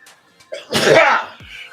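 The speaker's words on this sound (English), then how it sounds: "All right, sneeze again." A single loud, close sneeze, with a short sharp intake of breath before it.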